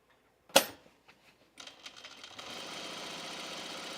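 A sewing machine stitches and gathers dress fabric. A sharp click and a few taps come first, then a steady whirring hum that grows louder and runs on without speech.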